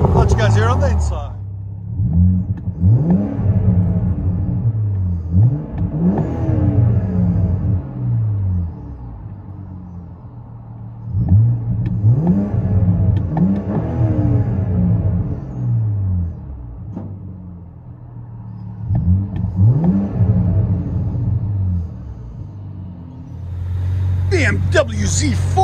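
Cabin view of a 2014 BMW Z4 3.0L inline-six with Vibrant resonators, rear mufflers and carbon fiber tips: three or four rising revs that swell and fall back to a deep burbling idle, with people talking over it.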